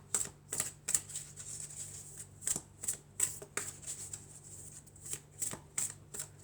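Fairy tarot cards being shuffled, a run of soft papery riffles and snaps arriving in quick irregular bursts, close and fairly quiet, with no voices.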